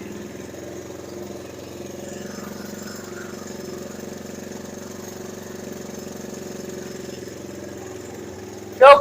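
A 1977 Honda ATC 90 three-wheeler's small engine idles steadily at close range, a low even putter with no speech, ending in a brief louder knock.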